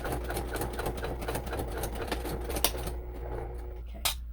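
A sewing machine running steadily while back stitching, a fast, close mechanical chatter that thins near the end, with a faint voice underneath.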